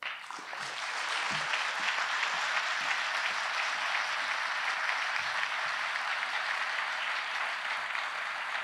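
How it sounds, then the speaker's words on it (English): Audience at a celebration of writers and writing applauding the writers, a sustained round of many hands clapping that swells after a brief start and stays full and even, with no voices over it. "Have another round of applause for all our writers."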